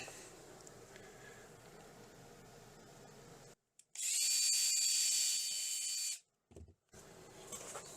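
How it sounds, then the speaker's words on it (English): A power drill boring a pilot hole into an RV dining table, running in one loud, steady whine for about two seconds, then a short burst after a brief pause, with quieter room noise before. "So I'll start with a pilot hole."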